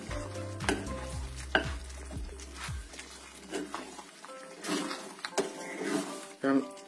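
Red rice stirred in a frying pan gives a light crackle and sizzle with repeated scraping strokes of the spoon across the pan. The level stays modest, and a few clearer scrapes and knocks stand out near the end.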